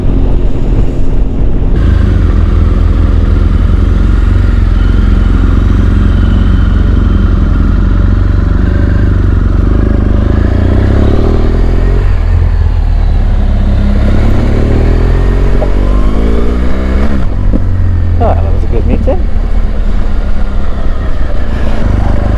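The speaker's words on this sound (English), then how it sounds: "I get to ride my bike every day. And motorway commute, it's just good fun." A motorcycle ridden on a motorway commute, its engine droning loud and steady with heavy wind rush throughout, no voices.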